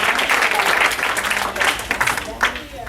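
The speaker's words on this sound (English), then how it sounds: "Clap your hands to Jesus." Church congregation clapping hands during a sermon, a dense, continuous wash of claps with voices mixed in.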